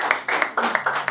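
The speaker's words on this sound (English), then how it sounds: "Please let's take a round of applause for her." A few people clap briefly, a short burst of quick, close handclaps lasting about a second.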